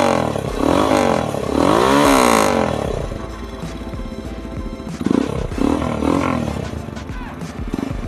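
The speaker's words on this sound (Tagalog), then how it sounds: "So kung i-rev nyo yun ng high RPM," A Kawasaki ZX-10R sport bike engine revs hard to high RPM, a loud, rising roar that peaks and falls back, then barks through shorter blips near the machine.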